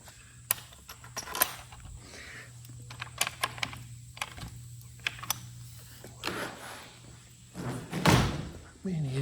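A door slams shut with a sharp bang near the end, following several lighter knocks and clatters in a humid lodge room, with fans humming steadily underneath.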